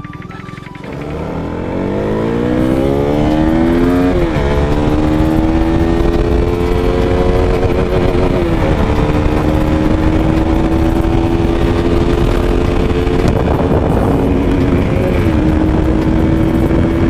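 KTM motorcycle engine rising steadily in pitch as the bike pulls away and accelerates through gears, a loud, close, continuous drone with brief dips at each shift and no talking.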